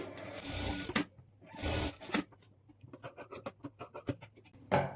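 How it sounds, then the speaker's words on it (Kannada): A sewing machine top-stitches along a blouse edge in short bursts, its rapid mechanical whir starting and stopping, followed by a quicker run of distinct needle clicks, close and fairly quiet. "ಈ ಥರ ಸ್ಟಿಚ್ ಹಾಕ್ಕೊಂಡು ಈ ಕಡೆ ಎಜ್ಜಲ್ಲೂ ಈ ಕಡೆ ಎಜ್ಜಲ್ಲೂ ಸಹ ಒಂದು ಸ್ಟಿಚ್ ಹಾಕ್ಕೊಳ್ಳಿ"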